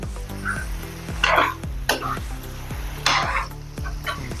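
Potato sabzi of large sliced potatoes being stirred in a pan, with repeated rhythmic scrapes and clacks of a spatula over a low sizzle, close and fairly loud.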